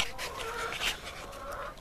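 Hens in a backyard coop after a newly added hen's first night, with soft, close clucking and murmuring calls that run steadily through the short moment against a low background hiss.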